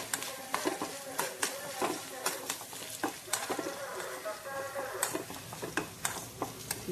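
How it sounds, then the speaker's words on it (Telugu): Onion tempering with moringa leaves frying in a pan, a soft sizzle under repeated sharp scraping and clicking of a spoon stirring against the metal, close and irregular. "ఉల్లిపాయ పోపులు అన్నీ వేగినాయి"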